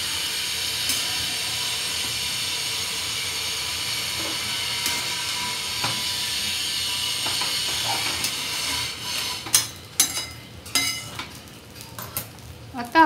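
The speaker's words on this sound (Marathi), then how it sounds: "साबुदाणा, शेंगदाणे आणि बटाटे व्यवस्थित परतून घ्यायचे आहे" Sago, peanuts and potatoes sautéing in a pan for fasting sabudana khichdi: a steady frying hiss, then clattering spatula scrapes and knocks against the pan toward the end.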